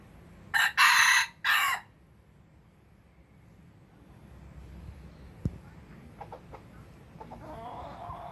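A rooster crows loudly and close by in one long broken call, then quiet outdoor farmyard ambience follows with a sharp knock and a few faint clucks.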